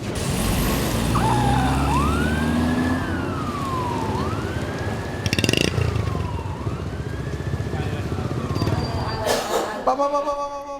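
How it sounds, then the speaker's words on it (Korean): An ambulance siren wails in rising and falling sweeps as the vehicle arrives, loud and close over steady traffic and engine rumble, with a few clattering knocks near the end; the setting is a medical volunteer mission in Vietnam. "앰뷸런스가 도착해 환자를 인근 큰 병원으로 호송하는 것으로 사태는 마무리됐습니다."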